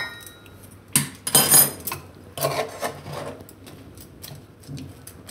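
Cashew and fig roll mixture being stirred with hot milk in a pan, giving a few scraping, rubbing bursts of spoon against metal, close and moderately loud, with quiet stretches between.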